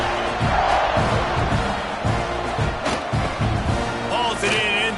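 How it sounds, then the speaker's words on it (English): Stadium crowd in a college football video game roaring and cheering steadily after a long scoring drive, loud and continuous with a commentator talking over it. "this crowd is feeling themselves after that last drive"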